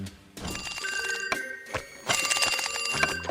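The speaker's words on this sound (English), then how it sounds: "Squidward gets a call from Squilliam" A cartoonish phone in a SpongeBob SquarePants episode rings in quick bell-like bursts, bright and metallic, over a cluttered background of thumps and music.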